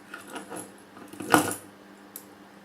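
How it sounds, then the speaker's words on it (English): Metal keychain folding scissors being unfolded by pulling out both handles, a few light metallic clinks followed by one brighter snap as the blades lock open, close and alone. "To unfold it, all I gotta do is just pull out both handles like this"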